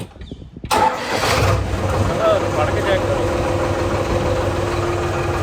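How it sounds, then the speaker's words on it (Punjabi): A tractor with a rotavator attached cranks over on its self-starter and settles into a steady, rumbling idle close by, with someone talking briefly over it. "ਮਗਰ ਰੂਟਾਵੀਟਰ ਪਾਇਆ ਹੋਇਆ ਤੇ ਮਾਰਦੇ ਸੈਲਫ ਟਰੈਕਟਰ ਦੀ"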